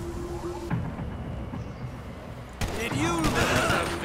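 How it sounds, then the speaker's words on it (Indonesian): Gunfire in a GTA 5 zombie survival firefight: scattered distant shots crackling under a busy game mix, with a voice talking over much of it and a louder burst of activity near the end. "Masih ada penembakan di sebelah sana, masih adu tembak dia."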